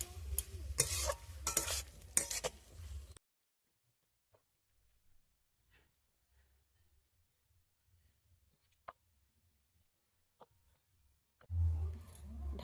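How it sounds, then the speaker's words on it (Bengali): A spoon scrapes and stirs boiled potato into cabbage in a pan, with brisk clattering strokes and a soft sizzle at the start, near-silence with a few faint taps in between, then another burst of stirring at the end. "সেদ্ধ আলুটা দিয়ে দিলাম, ভালো করে নেড়ে নেব। বাঁধাকপির সঙ্গে ভালো করে মিশিয়ে নেব।"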